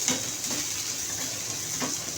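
Onion frying in a pan for a Maharashtrian green pea dish gives a steady, soft sizzle, with a few faint stirring scrapes.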